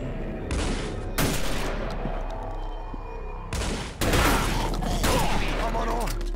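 Gunfire rings out in the TimeShift shooter game as two separate bursts of sharp, loud shots with a short gap between them, and a voice is briefly heard alongside.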